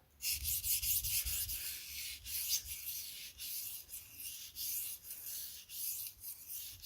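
Rhythmic gritty scraping strokes of an OTF knife blade drawn across a whetstone, repeated steadily at close range with no voices.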